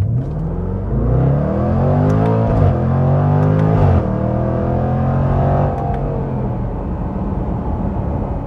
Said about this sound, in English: I'll just nail the throttle